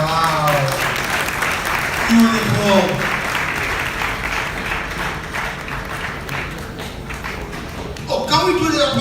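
Applause from a graduation ceremony audience sounds as a steady patter of clapping with some thumps underneath, while a voice speaks over it and a few cheers rise near the end.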